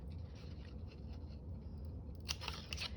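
Scissors make snip trims in a craft journal, quiet scratchy paper cuts at first, then a cluster of sharper, closer snips near the end.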